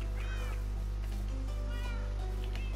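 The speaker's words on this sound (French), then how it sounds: "Sinon les chats vont me suivre, ça va être infernal." Cats meow repeatedly in the video game Minecraft, several high wavering calls spread across the clip over a constant low electrical hum, with faint talk underneath.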